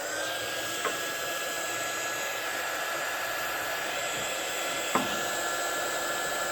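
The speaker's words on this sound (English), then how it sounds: "Just more like it's like a hairdryer, but it's for heat shrink." A heat gun blows steadily on heat shrink tubing while wiring in a caravan, giving a constant loud hair-dryer-like whoosh with a high whine and a couple of faint clicks.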